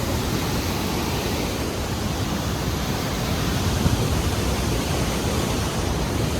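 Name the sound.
fast-flowing cold river water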